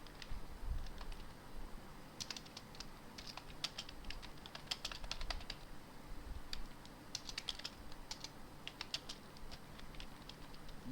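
Computer keyboard typing while entering Python code, irregular bursts of crisp key clicks in short runs with pauses between, close and fairly quiet over a low background hum.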